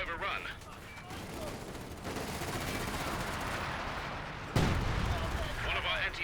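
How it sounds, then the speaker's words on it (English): Battle sounds from Company of Heroes 2: a dense wash of gunfire and rumbling artillery with a sudden louder blast near the end, steady and mid-distance, with a voice talking over parts of it. "Fallschirmjäger is firing away, hitting that officer."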